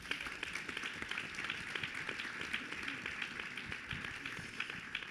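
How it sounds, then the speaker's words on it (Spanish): A seated audience applauds Cristian Bofill at a university lecture series on media and democracy, giving steady, fairly distant clapping that stays even throughout. "Un aplauso para Cristian Bofill, por favor."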